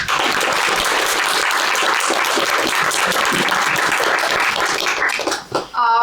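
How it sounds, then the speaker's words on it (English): Dense, steady applause from an audience honours a startup marketing panel, loud and continuous before trailing off near the end as a brief voice cuts in. "I would like to invite everybody to give a big applause for our panel"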